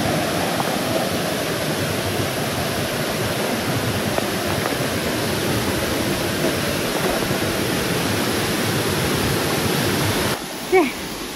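River rapids and waterfall at Jeram Enggang, a dense, steady rushing roar of tumbling water heard close by for a long stretch, ending with a brief knock as the sound drops.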